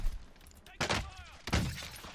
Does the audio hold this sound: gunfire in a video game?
yes